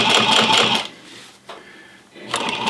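A sewing machine stitches a flat felled seam in two quick runs of rapid mechanical whirring, close and clear, separated by a short quiet pause.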